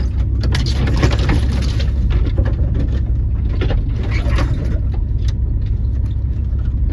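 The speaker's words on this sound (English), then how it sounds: "all the scratching noises cover up the noises of the rattling inside the truck" Branches scratching along the body of a Mitsubishi Montero crawling off-road through Florida forest, irregular scraping bursts over a steady low engine rumble heard from inside the truck.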